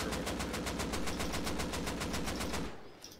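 Rapid automatic gunfire in the video game Rust, a steady loud burst of evenly spaced shots running for over two seconds before cutting off abruptly.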